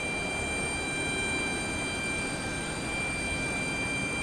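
Boeing 747 jet taking off from a distant runway at Houston Intercontinental airport, a steady faint far-off roar with constant high whine, unbroken throughout.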